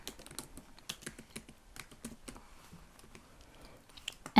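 Java code is typed on a computer keyboard, making a steady patter of close, light key clicks in irregular bursts with short pauses between them.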